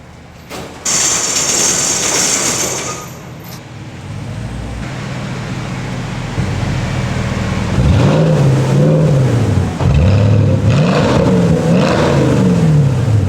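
A Porsche Cayenne engine drives in close by, its pitch rising and falling as it revs, over a steady background roar.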